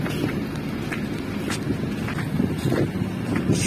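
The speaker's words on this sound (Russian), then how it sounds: "Иногда уже прямо так ветер усиливается." Gusty wind rumbles against the microphone in uneven surges near the Spaso-Preobrazhensky Cathedral in Odesa in winter, with faint distant traffic underneath and no one speaking.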